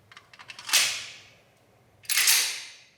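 Two loud, sharp gunshots from a Beretta 96 Brigadier .40 caliber pistol, each followed by a long echoing decay, spaced over a second apart with small mechanical clicks before the first.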